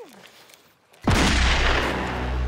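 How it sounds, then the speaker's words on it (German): A single sharp, loud report from a blank pistol bursts out after a quiet moment and leaves a long, booming, reverberant wash trailing behind it, heard close up in a room. "Ja, ist ein Schreckschuss, habe ich mir wegen der Einbrüche gekauft."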